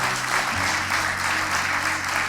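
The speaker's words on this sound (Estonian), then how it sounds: "Veel kord tugev aplaus kõikidele auhinnasaajatele" An audience at a municipal award ceremony gives the prize winners a dense, steady round of applause, many hands clapping together at full volume throughout.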